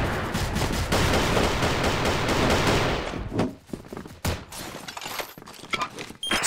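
A KAC Chainsaw Gold machine gun fires in CrossFire zombie mode, a dense, loud sustained burst for about three seconds, followed by scattered impacts, thuds and game effects.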